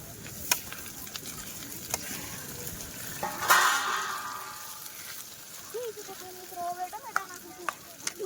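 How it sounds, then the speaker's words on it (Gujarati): Hot dal tempering sizzles as it is poured into cooked dal outdoors by the seashore: a soft, steady frying hiss with a sharp burst of crackle midway, then faint bubbling and occasional clinks, all close. "તમે જોઈ શકો છો દાળનો વઘાર પડી ગયો છે દાળમાં"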